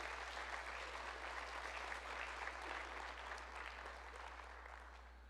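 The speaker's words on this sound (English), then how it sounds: "round of applause for both of those teams" Applause for teams at a university opening session, a steady wash of clapping that fades slightly toward the end, heard from a distance with a low hum underneath.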